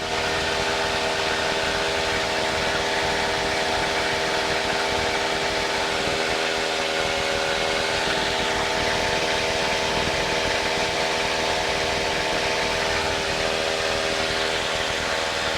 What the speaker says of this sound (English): engine seems particularly loud today